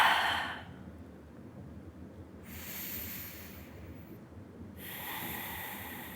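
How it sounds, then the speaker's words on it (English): Slow, deep exhalations out through the mouth during a gentle yoga session, two or three soft, breathy whooshes close by with quiet pauses between them. "Exhale out of your mouth."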